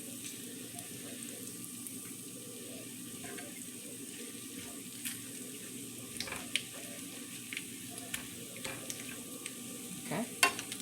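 Bacon and egg for a breakfast sandwich cook in a pan with a soft, steady sizzle, broken by light scrapes and taps of a utensil, mostly toward the end.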